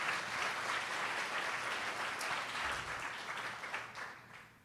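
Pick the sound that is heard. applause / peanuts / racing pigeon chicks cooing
applause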